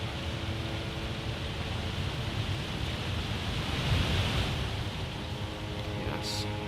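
A steady, broadband rush of a waterfall in the snowy wilderness of The Long Dark, continuous and even, with no talk over it.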